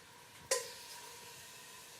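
Beef pieces browning in a hot pan, giving a sudden sharp sizzle burst that fades into a steady low frying hiss, with a faint clink near the end.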